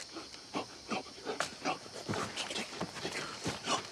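Dogs pant and whimper close by in quick, uneven breathy bursts with occasional higher whines and some shuffling, steady throughout with no clear talk.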